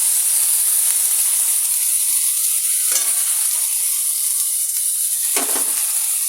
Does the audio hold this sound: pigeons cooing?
no